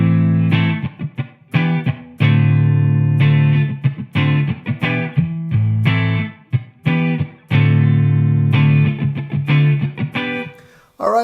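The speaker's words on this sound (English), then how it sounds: "what you're hearing right now is this nice Strat going through my Friedman Dirty Shirley" Stratocaster with single coil pickups played through a Friedman Dirty Shirley amplifier, giving loud, close, overdriven chords and riffs that stop sharply between phrases.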